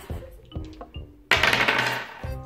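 Dice clatter in a board game: a few sharp, hard taps bounce in quick succession, then a louder rattling burst as they tumble and settle, fairly close and with no talking.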